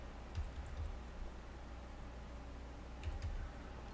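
Keyboard keys being pressed while playing Skelattack, a 2D platformer on PC: two short clusters of quick, faint clicks about three seconds apart, over a low steady background hum.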